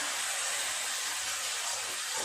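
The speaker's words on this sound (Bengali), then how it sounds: "অল্প একটু জল দিলাম, দিয়ে খুব ভালো করে মশলাটা একটু কষিয়ে নেব।" Spice paste of chili, cumin, coriander and sugar with a splash of water being fried in a pan for jackfruit kofta curry, a continuous broadband hiss and sizzle, loud and even throughout, no voices.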